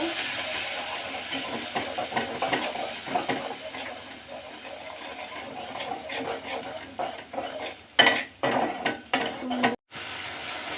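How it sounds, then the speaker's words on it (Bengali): Spices, chili and salt stir-fried in oil in a pan for fish curry, a loud continuous hiss and sizzle with rhythmic scraping stirs and a few sharp pan knocks near the end. "মশলা মরিচ লবণ দিয়ে দিচ্ছি সবগুলো কষি নিতে"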